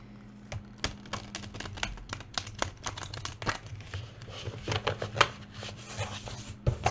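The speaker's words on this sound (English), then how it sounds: "these cards are kind of hard to shuffle" A deck of tarot cards being shuffled by hand, giving a run of quick, close flicking and riffling clicks in uneven bursts over a steady low hum, with no talking.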